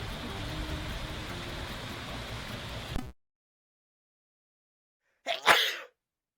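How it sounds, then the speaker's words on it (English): A single sharp sneeze bursts out after a stretch of steady rain-like hiss and a few seconds of silence, loud and close, said to come from a crate of live bees. "I think that crate of live bees just sneezed."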